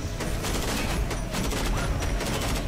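An enemy machine gun in the mech combat game Front Mission Evolved fires a loud, dense, unbroken burst of rapid shots that stays close and sustained throughout.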